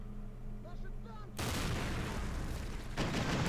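Gunfire in the video game Close Combat: Modern Tactics erupts suddenly after a quiet moment, a heavy burst of shots and booms from an engagement involving Bradley vehicles, followed by a second loud blast.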